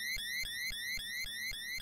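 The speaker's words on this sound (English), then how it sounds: "Oh, I hate the beeping sound." A rapid, repeating electronic warning beep from Mega Man 2 pulses about four times a second, loud and steady, with no one speaking.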